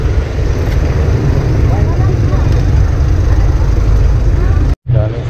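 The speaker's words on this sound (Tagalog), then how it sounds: "Traffic sa Inulugan Taktak ah." Steady roadside traffic on Inulugan Taktak, with engines rumbling loudly and continuously close by and people talking over it throughout, then a brief cut near the end.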